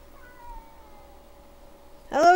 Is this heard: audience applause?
no